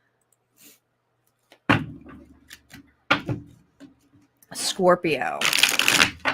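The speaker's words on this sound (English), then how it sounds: "I'm going to do a quick shuffle." Tarot cards are shuffled by hand in quick bursts, crisp riffling flutters and soft slaps close up, interspersed with brief speech.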